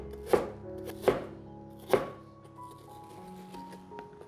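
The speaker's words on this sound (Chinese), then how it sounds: "把苹果切片，把苹果排一排，切成细丝。" A knife chops through apple slices on a cutting board, three distinct thunking cuts close up with pauses between, followed by quieter handling sounds.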